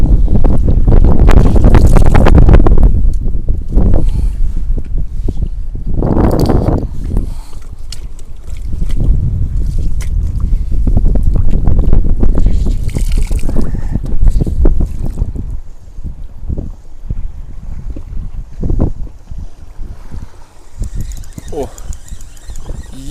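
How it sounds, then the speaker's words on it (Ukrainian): Strong wind buffets a small fishing boat out on choppy water while hunting for perch, roaring gusts and splashing waves rising and falling, with someone talking over the noise. "Плаваю, шукаю, борюся з хвилями, з вітром."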